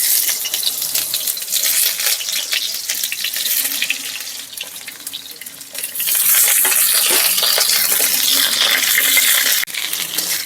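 Sliced ridge gourd hits hot oil in a wok, setting off a loud, steady sizzle and crackle that grows denser and harsher partway through, with no talking.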